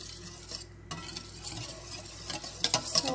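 Semi-sweet chocolate chips being stirred into hot boiling cream, a soft scraping and swirling of a utensil against the pot, steady and close with a faint sizzle beneath.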